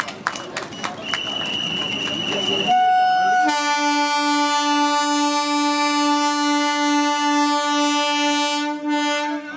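A MEMU passenger train on the extended Shoranur–Nilambur service: a rumble and clatter of running carriages, then a long, loud, steady horn blast held for several seconds nearby.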